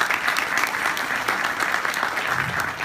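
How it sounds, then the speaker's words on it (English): A WordCamp Cape Town conference audience claps in sustained, dense applause, loud and close throughout with no pauses. "please give yourselves a round of applause for being here"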